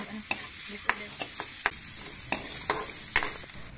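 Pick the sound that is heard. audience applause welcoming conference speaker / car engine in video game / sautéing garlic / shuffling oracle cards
sautéing garlic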